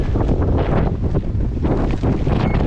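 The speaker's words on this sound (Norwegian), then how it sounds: "Vind og regn i ryggen." Strong wind buffets and roars across a fishing boat at sea during trolling in the rain, loud and continuous rumbling gusts close to the microphone, with no speech.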